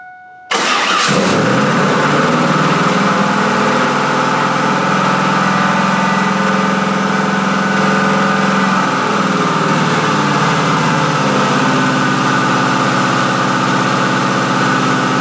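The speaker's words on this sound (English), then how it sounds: "we're gonna see if this thing will fire up, and we'll do some manual idle adjustments" A car engine fitted with an aftermarket throttle body cranks briefly and fires up close by, then settles into a loud, steady idle that dips slightly partway through, with no talking.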